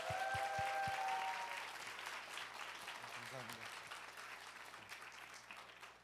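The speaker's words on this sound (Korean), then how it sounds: "우리 박수로 크게 환영하겠습니다." Audience applause welcoming a guest lecturer at a creation science seminar, a steady broadband wash of many hands clapping that fills the room and tapers slightly toward the end, with a brief voice at the start.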